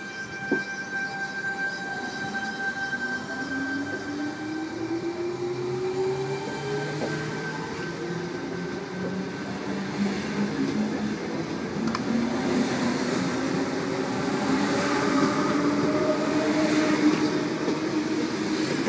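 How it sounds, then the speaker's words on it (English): A Sydney T-set electric train departing platform 2 at Como station, its motors whining upward in pitch as it pulls away and rumbles steadily with no talk over it. "T105 and its companion now departing platform number 2 at Como for a Cronulla service."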